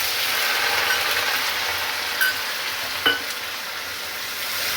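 Onion paste sizzles steadily in a hot pan, a constant frying hiss with a couple of brief scraping clinks as it is stirred, heard close up with no talking.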